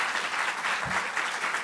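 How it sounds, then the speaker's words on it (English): Brief but dense applause from an audience at a state contest awards ceremony, even clapping throughout with a faint low thump partway. "They deserve a round of applause."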